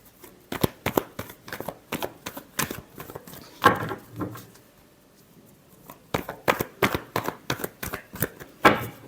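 Tarot cards are shuffled up close in two quick bursts of crisp, riffling slaps and flutters, with a brief quieter gap between them.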